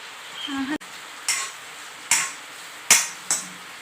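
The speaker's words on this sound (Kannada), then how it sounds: "ಅರ್ಧ ಈರುಳ್ಳಿ ಹಾಗೂ 3 ಮೆಣಸಿನಕಾಯಿ ಹಾಕ್ತಿದ್ದೇನೆ. ಈಗ ಇದನ್ನು ಚೆನ್ನಾಗಿ ಫ್ರೈ ಮಾಡಬೇಕು" Half an onion and three green chillies frying in a home kitchen pan: soft sizzling underneath, with several sharp metallic clanks and scrapes of a spoon against the pan spaced out close by.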